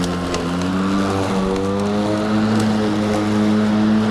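A lawn mower engine runs loud and close, its pitch climbing and holding higher as it works through taller grass, a steady droning whine throughout.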